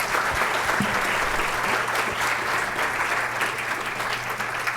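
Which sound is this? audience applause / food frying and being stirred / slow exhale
audience applause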